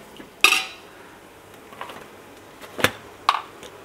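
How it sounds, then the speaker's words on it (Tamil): Metal spoon scrapes and knocks against a pot a handful of times, sharp close clinks spaced over quiet background, while mutton biryani masala is stirred and sautéed. "ஆட் பண்ணி கொஞ்ச நேரம் கிண்டணும் லேசா கொஞ்ச நேரம் வதக்கணும்னே"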